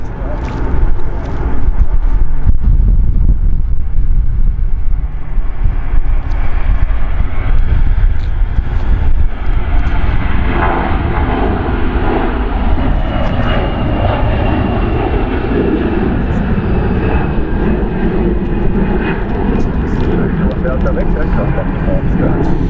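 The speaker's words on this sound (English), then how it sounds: "here we can see Airbus A320" An Airbus A320 airliner departs Zurich airport, its engine roar loud and sustained throughout, gradually easing but continuous, heard from the airport's viewing area.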